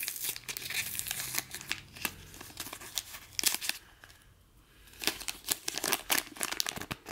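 A Pokémon sticker pack wrapper crinkled and torn up close, bursts of sharp plastic crackling and ripping with a short quiet lull in the middle, no voices.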